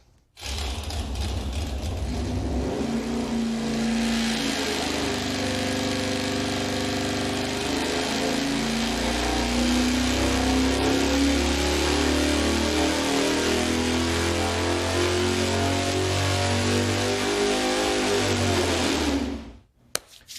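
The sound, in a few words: engine running on dyno after ignition wiring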